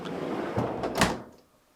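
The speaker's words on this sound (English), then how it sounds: "To install the upper drawer, align the rear guide wheels on the drawer to the top of the support glide rail in the freezer compartment." A GE refrigerator freezer drawer being slid onto its support glide rails, producing a short, soft plastic scrape and rumble with a couple of light knocks as it seats.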